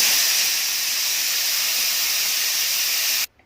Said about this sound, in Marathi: आता मी हिची वाफ काढून घेते